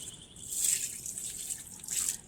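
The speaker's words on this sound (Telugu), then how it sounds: "ఇప్పుడు మనము ఇప్పుడు తీసుకొచ్చిన వాటర్ వేసేద్దాం చెట్టుకి" A close, hissy stream of water splashes and trickles onto a plant for a couple of seconds, swelling and easing, with no voices.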